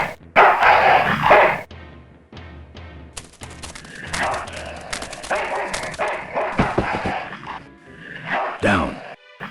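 A dog barks in the video game Full Throttle, repeated sharp yaps and barks scattered over game sound effects and background noise, with someone talking through much of it.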